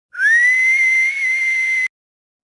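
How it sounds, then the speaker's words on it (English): A single shrill whistle that swoops up briefly, then holds one steady high pitch for almost two seconds before cutting off cleanly. "whistling through teeth"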